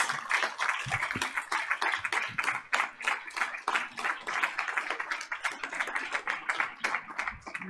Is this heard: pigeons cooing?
no